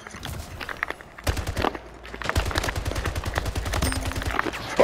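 Rapid automatic gunfire with heavy recoil in the video game Splitgate, a burst of loud close shots in quick rhythm, pausing briefly and then resuming as a longer sustained stream.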